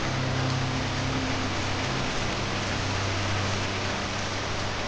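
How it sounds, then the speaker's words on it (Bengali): Continuous rain in a rainforest falls as a dense, even hiss with no breaks, and a low steady hum sits underneath. "রেইন ফরেস্টের হৃদয় জুড়ে ছড়িয়ে থাকে একটানা বৃষ্টি।"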